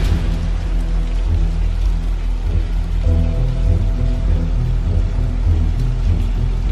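Steady, heavy rain from a storm ahead of Hurricane Elsa pours down in a dense continuous wash, with a low rumble underneath and no voices.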